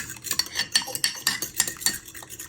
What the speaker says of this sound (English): Now you just want to give your eggs a little whisk for a minute or 2.